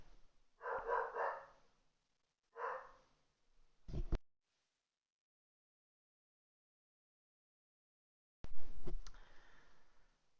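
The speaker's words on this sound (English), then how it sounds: "Okay, sorry about my dog." A small pet dog barks a few times indoors: a short burst, a single bark, then some clicks and a louder final outburst after a long silence.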